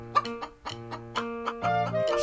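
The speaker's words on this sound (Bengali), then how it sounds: "তার কাছে অনেকগুলো মুরগি ছিল।" Cartoon hens cluck in a quick run of short, bright calls over a sustained musical backing, the clucks bunched in bursts across a couple of seconds.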